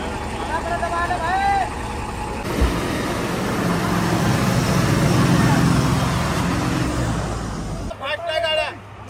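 Cars and trucks squeezing closely past each other on a dangerous mountain road between Uttarkashi and Kedarnath, with steady nearby engine and road rumble, a few horn-like tones, and people talking throughout.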